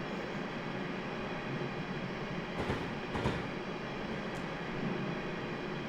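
Trains in the video game Train Simulator 2017, including London tube stock and overground trains: a steady rumbling rail noise with a couple of brief whooshing swells, continuous and fairly distant.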